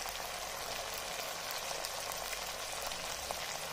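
Tomatoes sautéing over browned onions for chicken pulao give a steady, close crackle of frying with a faint bubbling undertone, running evenly throughout with no voices.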